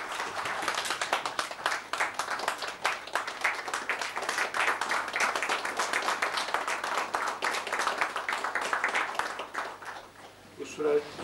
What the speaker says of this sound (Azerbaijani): Bu sürəkli alqışlar